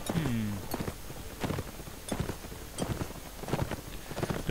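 Horse hooves clip-clop across a Mount & Blade battlefield in a light, uneven rhythm of sharp thuds, with a short whinny-like tone at the opening and no talk over it.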